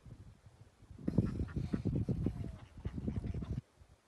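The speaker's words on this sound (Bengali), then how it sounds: "হাঁসগুলো দেখেন খেলা করতেছে এখানের মধ্যে।" Ducks playing on a lily pond, with a burst of busy quacking and honking calls that starts suddenly, holds for a few seconds close by, then cuts off into quiet.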